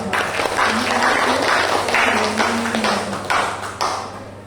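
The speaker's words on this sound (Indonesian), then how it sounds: "tepuk tangan dulu dong" An audience of teachers applauds in a hall, a sustained burst of many clapping hands that runs for several seconds before tapering off, with a voice faintly under it.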